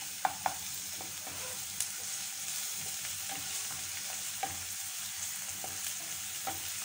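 Grated garlic fries in tomato chutney with a soft, constant sizzle, broken by scattered light taps and clicks from stirring.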